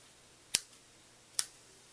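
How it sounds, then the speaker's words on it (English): Two sharp snips of dull scissors cutting paper, about a second apart, crisp and close, with near silence between them. "those are dull scissors. They did not want to cut."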